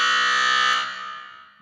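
A loud electronic buzzer sounds in one sustained blast, then fades and tails off over the next second with nothing else heard.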